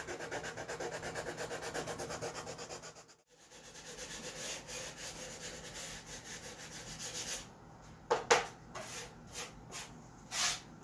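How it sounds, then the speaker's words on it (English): Sandpaper rubs steadily over a wooden propeller blade in a continuous rasping scrub, breaking briefly, then resuming with a few sharper strokes and knocks toward the end. "I need to sand this, do this other blade"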